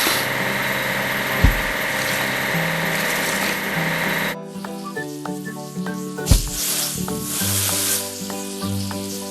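A train station repair game on Android plays a steady sizzling, scrubbing wash sound as the dining car is cleaned, with layered game music and a few sharp clicks over continuous effects.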